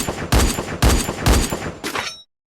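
Dragunov sniper rifle fired in a shooting video game, five loud, sharp shots spaced about half a second apart, each with a short echoing tail, ending abruptly with no talk.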